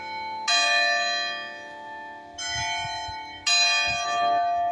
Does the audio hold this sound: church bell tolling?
yes